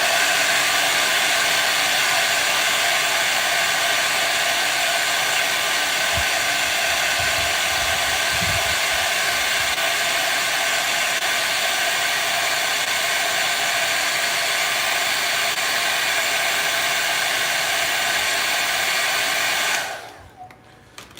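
A hair dryer blows steadily and loudly at close range to dry a fresh coat of yellow paint, a continuous rushing whir that runs almost the whole time before cutting off near the end.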